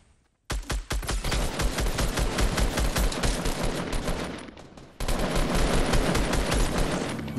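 Sustained rapid automatic gunfire in a shooter video game, loud and close, pouring out in long dense bursts with a brief break before resuming just as heavily.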